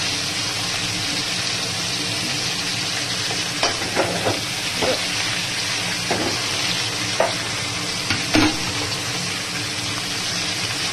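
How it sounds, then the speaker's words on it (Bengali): A small batch of fish fries in a pan with a close, continuous sizzle. Short scraping knocks from a stirring utensil break in every second or so. "আর একটু ভাজা হবে, হালকা সাতলানোর মতো ভাজা।"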